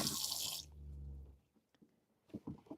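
A kitchen tap runs briefly while a hand is rinsed after separating eggs, giving a short, close hiss of water that cuts off and is followed by a few faint drips and small handling sounds.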